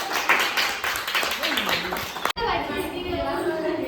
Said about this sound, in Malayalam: നല്ലൊരു പാട്ട് ആലപിച്ച കല്യാണിക്ക് എല്ലാവരും നല്ലൊരു കൈയടി കൊടുത്ത്